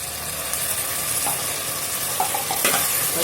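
Ginger, garlic and green chili paste sizzles with onions in a pan for chhole masala, a steady hot frying hiss with scraping stirs and small clicks of the spoon, close and continuous with no voices.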